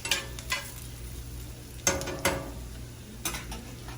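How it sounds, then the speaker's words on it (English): Chicharrones sautéing in a pan make a quiet, continuous sizzle, broken by a few sharp utensil scrapes and clinks against the pan at irregular intervals. "you want to get them cooked, sauteed pretty good, a little brown"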